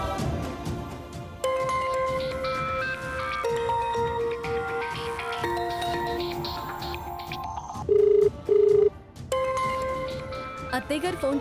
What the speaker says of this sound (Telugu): అత్తయ్య గారు ఫోన్ చేస్తున్నారమ్మా